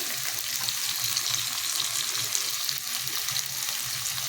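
Chilli, ginger and garlic frying in oil for vegetable chow mein, a steady, close hiss and sizzle that runs continuously without pause.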